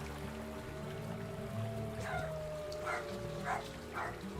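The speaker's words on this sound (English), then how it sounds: "Again, apologize about my dogs." Several dogs bark and whimper at a distance, a few short yips standing out over a quiet background hum.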